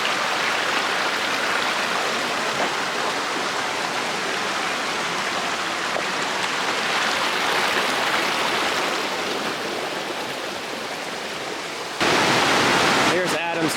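The Lewis River flows with a dense, steady rushing wash heard up close, and the roar swells slightly louder near the end.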